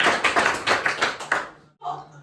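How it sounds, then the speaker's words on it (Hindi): Scattered clapping from a Class 9 science class, rewarding a student's answer: a quick burst of claps from a small group, fairly close, fading out before a teacher's voice briefly resumes. "शाबाश, इसके लिए तालियां"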